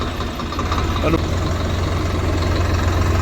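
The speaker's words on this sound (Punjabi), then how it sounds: "ਛੋਟਾ ਜਿਹਾ ਟਰੈਕਟਰ ਹੈ ਜੌਂਡੀਅਰ" A small John Deere tractor idles steadily with a low, even engine drone that stays constant and close throughout.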